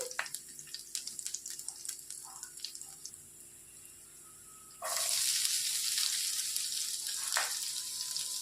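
Thinly sliced onions drop into a hot pan for a dhaba-style egg masala curry. Faint kitchen clinks come first, then a loud, steady sizzle erupts about halfway through and keeps going.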